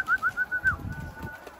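Hünkari pigeons give a series of about five rhythmic, warbling calls that lead into a longer, fading note, close and fairly clear. Low rustling and handling noise sit underneath.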